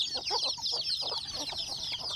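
A rooster clucks in a quick run of short, throaty bursts over a constant high chorus of bird chatter, close and moderately loud, on a farm in the morning.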